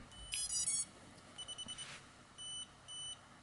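A drone's flight controller sounds a sequence of faint electronic beeps after its battery is plugged in: a quick cluster, a run of short chirps, then two longer tones, over low background hiss.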